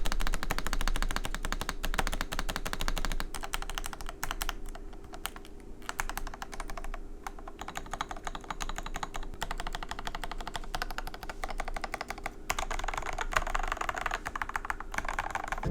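Rapid clacky typing on a mechanical keyboard fitted with ABS plus PC keycaps, keystrokes close and crisp in a dense continuous run with short pauses, no talking.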